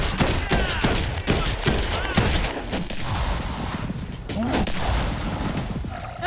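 Rapid bursts of electric-bullet gunfire in the zombie game Dead Island 2, loud and close, with repeated sharp shots and crackling impacts over a dense, noisy battle mix and some voice in the background.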